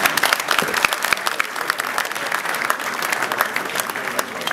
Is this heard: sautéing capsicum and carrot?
no